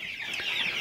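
Cornish cross chickens cluck softly in a brooder, a brief, steady, close chatter of several birds.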